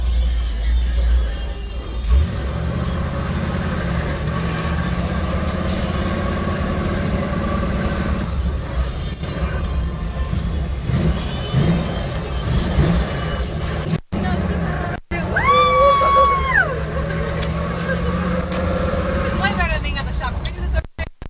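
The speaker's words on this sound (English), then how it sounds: "Driving the CJ7 around." A 1986 Jeep CJ7 drives along among motorbikes, its engine a steady low rumble continuing under people talking, with a brief whistling tone partway through.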